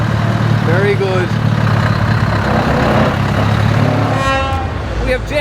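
A loud, steady V8 engine of a Eurostar truck rumbles throughout at an Irish truck show, with horn-like tones sounding briefly near the start and again toward the end.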